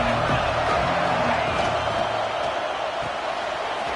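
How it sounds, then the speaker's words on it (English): A football stadium crowd at a Texas A&M versus Alabama game roars steadily and loudly throughout, a dense, unbroken wall of cheering. "this crowd is turning it up a notch"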